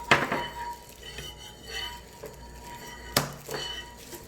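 Seasoning being stirred together with cooking oil and perilla oil in a bowl for gochujang-glazed grilled deodeok root: a few sharp utensil clinks against the bowl, two louder knocks near the end, over quiet scraping.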